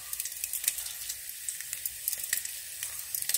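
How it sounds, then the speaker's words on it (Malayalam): Mustard seeds, onion and chilli hit hot coconut oil in a chinchatti while a mango and drumstick curry is made: a steady close crackling sizzle with scattered sharp pops, no voices. "ചിൻചട്ടി ചൂടായി, വെളിച്ചെണ്ണ ഒഴിച്ചു കൊടുത്ത് കടുക് ഇട്ട് കൊടുക്കാം."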